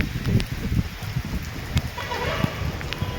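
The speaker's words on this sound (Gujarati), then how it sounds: "ઘણા દિવસ પછી અમારે હારા મારો વરસાદ આવ્યો છે સુરતમાં" Heavy rain falls steadily in Surat, a dense hiss of drops spattering on surfaces with sharper nearby splashes, a few faint fowl-like calls, and no talk.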